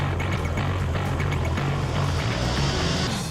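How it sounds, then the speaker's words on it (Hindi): A steady, loud low rotor drone with a continuous engine hum, constant and unbroken throughout, from an Apache attack helicopter close by. "number 8, Apache helicopter"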